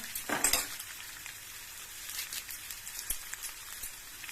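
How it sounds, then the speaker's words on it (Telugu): Dried red chillies and curry leaves sizzle in hot oil for a Telangana-style red chilli chutney, with a loud crackling burst early on, then a steady hiss and a few sharp pops, no voices. "ఎండుమిరపకాయలను వేసుకుంటున్నాను చివరగా. తర్వాత కొంచెం కరివేపాకును వేసుకుంటాను."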